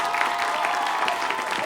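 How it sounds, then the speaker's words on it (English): A studio audience applauds steadily for two school quiz teams at a televised high school quiz competition, with dense, even clapping that stays at the same level without a break. "round of applause for both of our schools"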